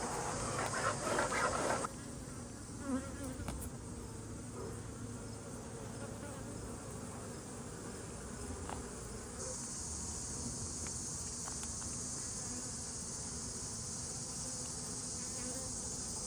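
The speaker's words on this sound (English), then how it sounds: "of wonderful comb here and lots of angry bees" Honey bees swarm and buzz around an opened hive during an inspection, a steady, dense drone with high insect whine close to the ear throughout, no talk.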